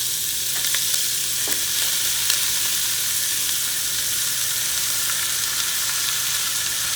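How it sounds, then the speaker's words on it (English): Ground beef sizzles steadily in a hot skillet, a constant loud crackling hiss with occasional small pops, no talking. "So I'm adding my ground beef in there. Get that sizzle going."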